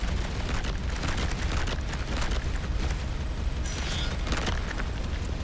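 A plasma weapon in the space game Starcom fires at a high rate, producing a continuous roaring barrage of blasts and booms that stays loud and dense throughout.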